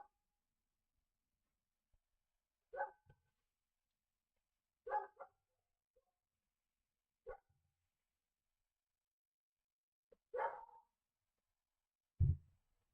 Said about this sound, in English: I don't know if you can hear the dog in the background or not,